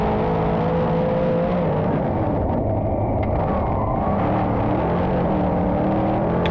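Race cars at Thunder Mountain Speedway power out of turns 3 and 4 in a heat race, a steady loud engine roar and rumble filling the whole stretch without a break.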